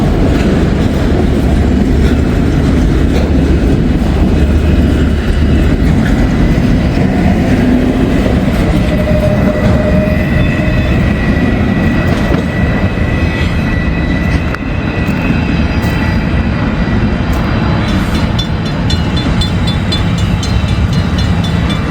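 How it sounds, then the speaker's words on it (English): A long freight train of mostly empty cars rolls steadily past close by, a loud continuous rumble and rattle with faint squeals and clanks, unbroken for the whole stretch. "Took over 10 minutes for that train to get through here."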